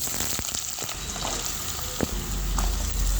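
Potatoes fry in hot oil in a wok after a dry red chilli tempering, a steady close sizzle with scattered crackles that swells louder toward the end.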